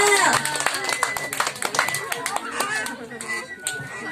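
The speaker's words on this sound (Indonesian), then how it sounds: "Tepuk tangan buat Lena." Children clap together for a girl named Lena in a Christmas children's sermon setting, quick bursts of clapping mixed with lively chatter and voices throughout.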